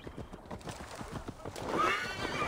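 A horse in the video game Assassin's Creed Valhalla gallops with a steady, rapid clip-clop of hooves, then lets out a loud neigh near the end, close and prominent over faint background ambience.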